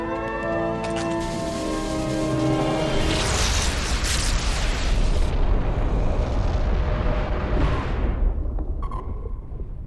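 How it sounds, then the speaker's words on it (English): In a video game, a warhead launch sets off a huge, deep explosion. It rises into a long, loud rumbling roar that fills the scene for several seconds after a brief tonal alarm-like hum. "Stand by, launching first warhead."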